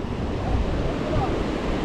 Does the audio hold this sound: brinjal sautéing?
no